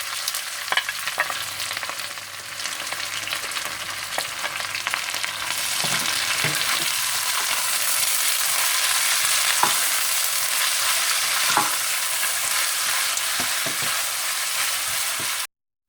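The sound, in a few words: onions frying in hot desi ghee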